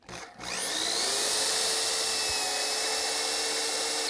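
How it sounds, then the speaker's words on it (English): A power drill whirs up and runs steadily at high pitch, boring into wood with a continuous close, loud grinding whine. "So we're going to go ahead and drill a hole here."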